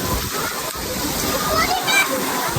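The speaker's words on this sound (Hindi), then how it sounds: "वहाँ पे पानी भर रहा है" Water sloshing and splashing fills a water park ride area at Adventure Land, Bahria Town, Karachi, as a steady close wash of splashes with people talking over it.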